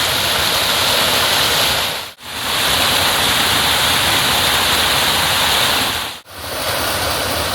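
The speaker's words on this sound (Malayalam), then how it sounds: "ശക്തിയിൽ വെള്ളം ഒഴുകുന്നത് നമുക്ക് കാണാം" Forceful water pouring over Olippara Waterfalls, a loud, dense, continuous roar heard up close, briefly dipping twice but otherwise unbroken.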